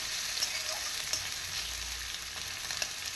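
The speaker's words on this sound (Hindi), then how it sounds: "ब्राउन होने तक इसको फ्राई करूँगी ताकि पक जाए आलू" Potatoes frying in a pan with onion, green chillies and other chillies, sizzling with a steady, quiet crackle and occasional small pops, no voices.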